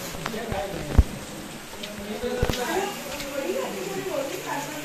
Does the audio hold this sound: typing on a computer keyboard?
no